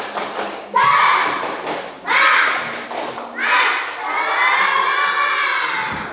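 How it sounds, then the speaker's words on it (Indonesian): A group of children in a religious lesson does a clapping chant in three loud bursts. Rhythmic claps and thumps come with shouted voices, each burst separated by a brief pause. "tepuk semangat lagi, tepuk semangat"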